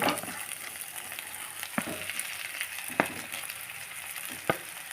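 Potato and coriander frying in oil in a pan, a steady bright sizzle with a few sharp clicks of stirring, heard up close and alone without any voices.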